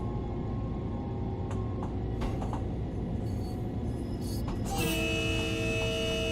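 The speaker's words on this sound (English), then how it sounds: "Honking the horn for the last stop." A Long Island Rail Road train horn sounds in Train Sim World 3 on arrival at Hempstead, starting late as a steady, loud sustained tone over a continuous low rumble of the train.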